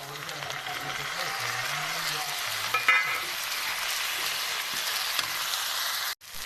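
Tomatoes go into a sizzling pan of ginger, garlic and green chili masala, making a loud, steady frying hiss with brief stirring clatter and a sharp scrape near the end.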